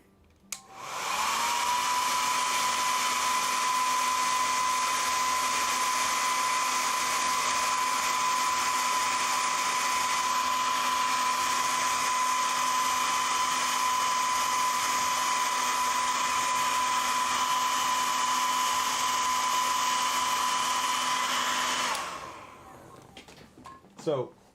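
An airbrush spraying paint onto miniature wings gives a steady, continuous hiss with a thin whine, held evenly for about twenty seconds before cutting off abruptly.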